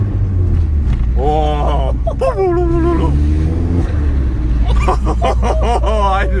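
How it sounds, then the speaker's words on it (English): Vauxhall Astra VXR turbo engine fitted with a Forge re-circulation valve, revving loudly with rising and falling tones and turbo swooshes, while people talk and exclaim over it. "you do hear a couple more sort of like swoosh sounds from the turbo"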